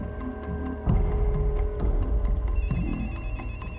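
A mobile phone ringing inside a jacket pocket, its repeating electronic ringtone muffled but steady and fairly close, with a soft throbbing hum underneath.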